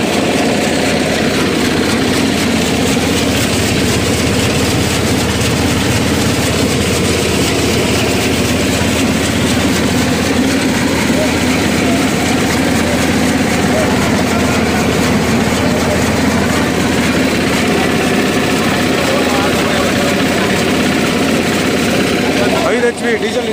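A 5 HP diesel engine drives a chaff cutter with a loud, steady, unbroken mechanical drone and clatter that fills the whole stretch at close range.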